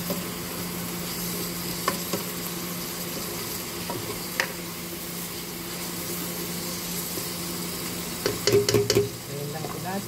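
Ground beef and potato sautéing in a pan, stirred with a utensil: steady close sizzle throughout with occasional scrapes, and a burst of louder clattering stirring near the end.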